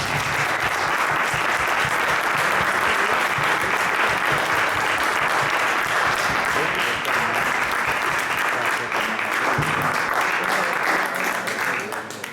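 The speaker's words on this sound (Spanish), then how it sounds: "un aplauso para Fonsi." Loud, sustained applause from a crowd fills the whole stretch, steady and dense, fading slightly at the very end.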